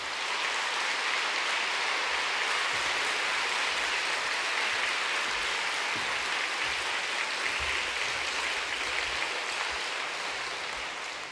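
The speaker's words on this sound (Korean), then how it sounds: "권사님들께서 박수로 환영해 드리겠습니다." Steady, dense applause from a church congregation of deaconesses welcoming a guest preacher at a retreat worship service, sustained at an even level for the whole stretch.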